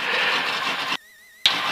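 Piston engine of an Enstrom 280C helicopter cranking and catching with a loud rough chugging, then cutting to near silence with a faint whine, then bursting back in abruptly.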